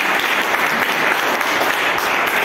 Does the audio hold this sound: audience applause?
yes